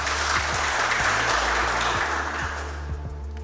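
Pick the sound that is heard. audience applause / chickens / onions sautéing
audience applause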